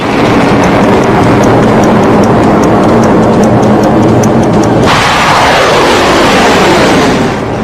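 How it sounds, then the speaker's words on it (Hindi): A Barak 1 missile fires from a mobile launcher at the Chandipur test range in Odisha, producing a loud, continuous broadband roar that changes midway into a sweeping, falling rush as it pulls away. "ओडिशा के चांदीपुर ITR से मोबाइल लॉन्चर के जरिए बराक 1 मिसाइल फायर की गई"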